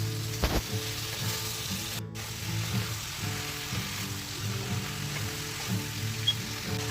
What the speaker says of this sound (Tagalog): now let's add our cauliflower. Mix it nicely